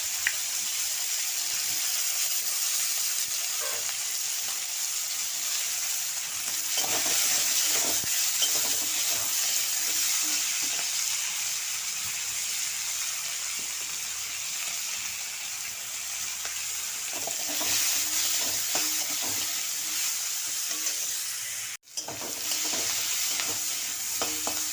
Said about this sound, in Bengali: এবার মিষ্টি কুমড়ো আর শিম একসাথে ভেজে নেব।